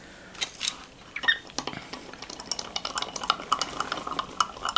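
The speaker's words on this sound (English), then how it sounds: "And then I'm going to give it one last mix." A spoon stirs a mixture in a container, a run of quick clinks and scrapes that grows busier after the first second and continues closely throughout, with no talk.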